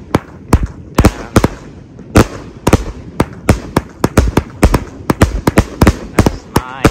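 A blue Nishiki 100-shot compound fireworks cake fires a rapid, uneven string of sharp launch thumps and pops. It is loud and close, with short gaps between shots, and there is no talk.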